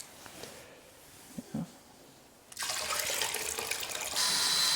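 Water poured into a bucket of wall paint to thin it for a mist coat, starting after a quiet pause with a few soft knocks, then a loud steady splashing stream that grows fuller near the end.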